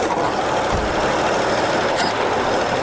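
An abandoned 1976 AMC Pacer engine idles high with the choke not fully opening, a steady, close rough hum with a faint clank near the end.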